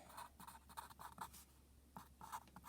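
Faint pencil scratching on paper while writing out geometry angle notes, a run of short rhythmic strokes, then a brief pause and another burst of quick strokes, quiet and close with no talk.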